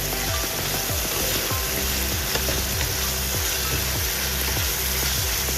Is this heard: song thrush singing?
no